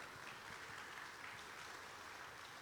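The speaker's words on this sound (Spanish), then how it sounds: "Si le vas a dar un aplauso al Señor, dáselo fuerte." A church congregation at a Sunday service claps continuously, giving an even, sustained wash of applause that sounds fairly faint and distant.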